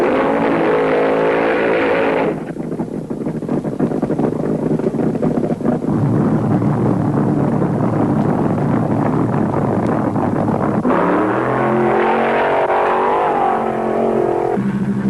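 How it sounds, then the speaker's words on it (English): Top fuel dragsters at a 1973 IHRA drag race in Muncie, Indiana, thunder loudly off the line, a sustained roaring engine blast that fills the clip with wind buffeting, then shifts to a harsher rising tone near the end. "Dick LaHaye in lane 2 against the Kentucky Moonshiner were the first 2 cars to kick off round 2 for the fuelers"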